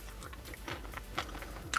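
Crispy, crunchy bites into Buffalo Wild Wings buffalo bacon boneless wings with a fried, salty coating, heard as several close, soft chewing crunches spaced irregularly with no talking.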